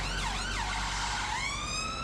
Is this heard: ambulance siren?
yes